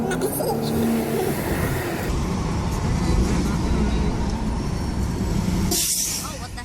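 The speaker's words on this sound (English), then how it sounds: "Brakes on the bus." Air brakes on a bus in New York traffic release a sharp burst of hissing air near the end, heard over continuous loud engine and road rumble.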